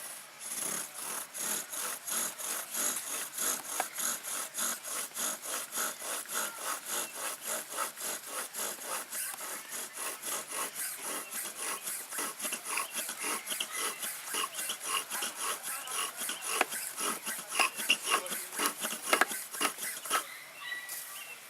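A steady, rapid back-and-forth grinding of a wooden bow drill spinning on wood, continuous and close, with regular rhythmic strokes that grow slightly louder and rougher toward the end as the drill slips a little.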